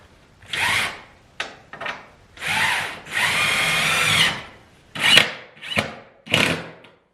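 Corrugated galvanized metal roofing panels, old barn roofing reused as wainscoting, are cut with a power tool in a string of harsh grinding bursts of varying length, loud and close, with short pauses between cuts.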